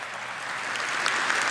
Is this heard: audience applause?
yes